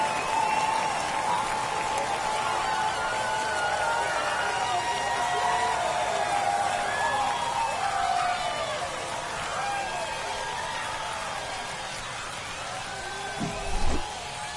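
In MLB The Show, a minor league home crowd at a Norfolk Tides vs. Indianapolis Indians game cheers a home run with a steady, distant roar of applause and cheering that fades slightly toward the end.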